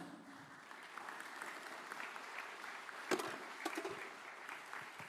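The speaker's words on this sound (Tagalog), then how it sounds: "Lakasan nyo yung palakpak nyo" A church congregation at a Tagalog preaching service claps in a steady, fairly faint wash of applause, a few sharper claps standing out near the middle.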